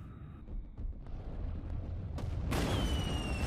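Fireworks set off inside a cave in an anime scene: a low rumbling build-up with faint crackles, then a louder burst and fizzing spray near the end, echoing and fairly close, with no speech.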